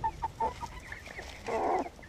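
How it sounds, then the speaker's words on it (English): Newly bought, friendly chickens in a coop cluck and make short murmuring calls close by, with a louder, longer squawk near the end, and no one talking. "I thought I'd show you some of the chickens that we recently kind of bought."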